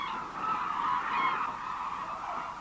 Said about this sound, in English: It's mostly white-naped cranes and their distinctive red-eye markings. But there are also hooded cranes that migrate here for winter.